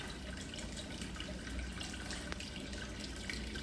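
Ten millilitres of aquarium water pour into a small test vial, a faint continuous trickle and splash heard close and quietly throughout.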